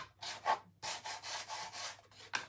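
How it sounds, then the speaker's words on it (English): A sanding block rubs along the edges of a small painted wooden stencil sign, making close, rhythmic scratchy strokes with short pauses between passes. "I just wanna touch the edges with a little bit of the sanding block."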